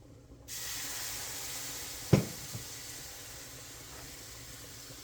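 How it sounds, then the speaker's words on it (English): White gravy simmers with a steady soft hiss in a pan as milk is stirred in little by little; a single sharp clink of a utensil stands out partway through. "We're going to try little by little because we have to add the milk. Little by little, stir it up."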